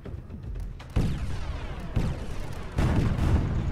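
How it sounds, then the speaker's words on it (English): Hydra weapon fire in the space combat game StarCore lands in three heavy booming impacts about a second apart, each with a deep thudding onset and rumbling tail over a steady low background. "There goes the Hydra fire directly into the rear."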